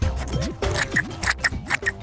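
Scissors snip through paper to cut out fish shapes for a children's craft, giving a few crisp, close cuts in an uneven rhythm with no talking.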